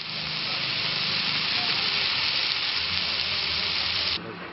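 Dosa batter sizzles and fries steadily on a hot griddle in a small village restaurant, a loud continuous hiss that cuts off abruptly near the end, with faint background murmur.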